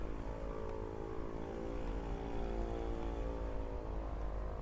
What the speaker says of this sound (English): Oh, it's a motorcycle.